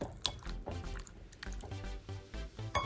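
Pork liver being mixed by hand for frying, giving repeated wet squishing and sloshing sounds, close and steady, with no talking.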